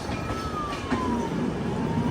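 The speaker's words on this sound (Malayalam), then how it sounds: "അതിലൂടെ ഒരു ഫയർഫോഴ്സ് പോകുന്നുണ്ട്" A fire engine siren wails faintly in the distance near Itarsi railway station, its falling tone drifting over steady background hum as it passes.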